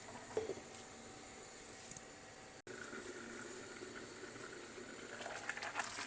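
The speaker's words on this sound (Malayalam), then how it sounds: "നന്നായിട്ട് തിളയ്ക്കുന്നുണ്ട്" Water bubbles at a gentle, steady boil in a pot, with soft fizzing and occasional pops, faint and continuous.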